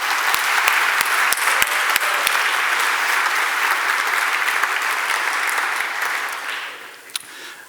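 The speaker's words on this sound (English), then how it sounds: "please make some noise for Nathan." Audience applause at the Codegarden 2019 opening keynote, a conference on Umbraco: loud, sustained clapping from a large crowd that holds steady, then fades toward the end.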